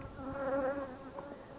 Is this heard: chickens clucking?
no